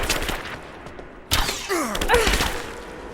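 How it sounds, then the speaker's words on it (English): Gunfire in the video game Rise of the Tomb Raider: bursts of shots and heavy thuds run throughout, with a sharp loud hit midway. Shouted voices come in over the firing. "Open fire!"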